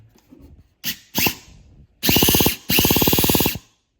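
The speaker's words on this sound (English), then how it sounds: "I did test it with my Rustler Easy Start." A Traxxas EZ-Start electric starter from a Rustler spins over a Traxxas Nitro Jato 3.3 nitro engine: two short whirring bursts, then two longer loud buzzing runs with rapid pulsing, close by and without talk.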